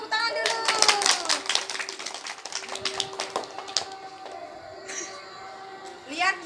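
Children clap hands in a classroom, a scattered burst of claps that thins out after a few seconds. Voices talk over it.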